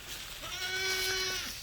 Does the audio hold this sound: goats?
yes